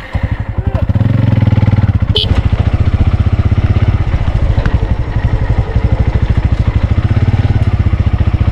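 A motorcycle engine runs close and loud with a steady, rapid throbbing pulse that holds throughout as it rides, with voices briefly heard over it.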